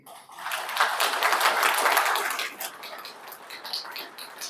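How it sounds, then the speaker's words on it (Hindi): Seated audience at a spiritual talk in Karnal, Haryana, clapping briefly on request, a swell of many hands that builds, peaks, then thins to scattered claps. "थोड़ा सा ताली बजाओ, आंखें खुल जाएगी।"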